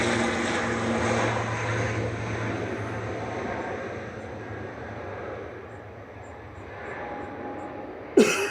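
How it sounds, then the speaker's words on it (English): A Logan Air ATR 72 turboprop airliner departs Manchester Airport for the Isle of Man, giving a moderate droning propeller hum with a low steady tone that gradually fades, ending with a sharp brief click. "here goes ATR 72 of Logan Air to the Isle of Man GLMTE with flight 694"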